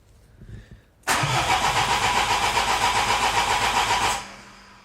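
A car engine cranks with a fast, even starter whir on a new battery for about three seconds, loud and close, then stops without catching.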